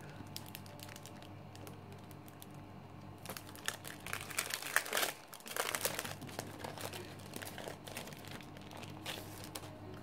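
Paper crackles and crinkles as a scrapbooking paper pack is unwrapped, a quiet steady rustle that swells into a denser burst of crumpling midway before settling back to soft handling sounds.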